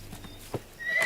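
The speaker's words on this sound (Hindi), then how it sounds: "ये घोड़ा तो मेरे पापा से भी बुरा है।" A horse neighs in a short, faint call with a soft thud of hooves, heard briefly in a film scene with no talking.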